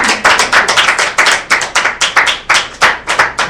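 A congregation claps in praise during a church service, a loud, steady run of sharp hand claps in a quick rhythm that carries on without pause.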